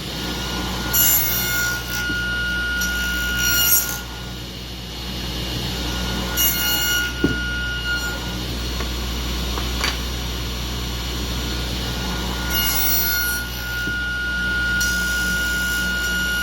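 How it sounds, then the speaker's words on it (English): Hand-sawing wood to cut tenons on the ends of frame rails for a cabinet frame-and-panel door; steady, repeated rasping strokes close by, with no talking. "we're going to cut through that way and that way to make a tenon on the end of these"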